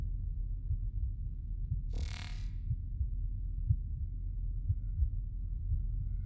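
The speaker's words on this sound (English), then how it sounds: "My heartbeat, a little bit louder" A low, steady pulsing heartbeat in the horror game Observer thumps under a dense droning hum, with a brief hissing burst partway through; the beats stay quiet and regular throughout.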